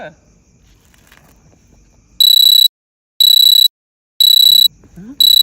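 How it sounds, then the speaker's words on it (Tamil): An electronic alarm beeps in loud, regular bursts, four evenly spaced high-pitched pulses, with faint movement noise before and between them. "என்ன அலாரம் அடிக்குது?"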